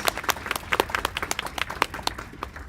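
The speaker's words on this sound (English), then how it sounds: "we can give him a big round of applause" At a primary-election debate event, a small audience gives a brief, fairly faint round of scattered individual claps.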